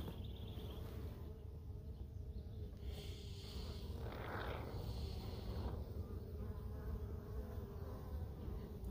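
Honey bees buzzing during a hive trapout, a dense continuous droning hum that stays close and steady throughout, with faint handling noises in the background.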